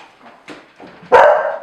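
A dog gives a few soft whimpers and yips, then one loud, close bark that rings out, with no talking.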